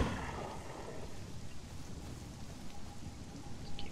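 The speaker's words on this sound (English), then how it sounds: "You ain't the one who's having to slog through this woods in the rain." Rain pours in a forest in the game Conan Exiles, a soft, steady wash of falling water with faint patter, fairly quiet and unbroken.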